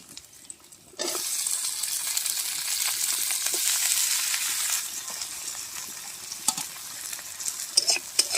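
Tomatoes go into a pan of fried onions, a sudden loud sizzle bursting in after a quiet start, then steady frying with scraping stirs and a few sharp clinks of the spoon against the pan.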